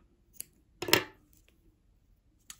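Scissors snip through pink crochet yarn in one short, quiet cut, with a few faint clicks around it.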